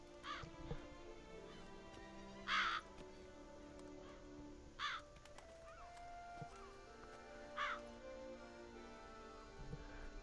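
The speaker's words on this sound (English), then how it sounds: "The crows make the place look sketchy." Crows caw in three or four separate loud bursts at steady intervals over a low ambient game soundscape in The Witcher 3: Blood and Wine, with no talk.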